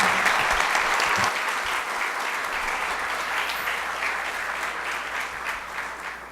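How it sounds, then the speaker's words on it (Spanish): A room of attendees at a student research presentation on civil justice applauds all the groups, a broad, even roar of clapping heard near and alone that tapers gently over several seconds. "un aplauso para todos"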